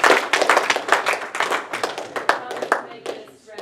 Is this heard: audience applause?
yes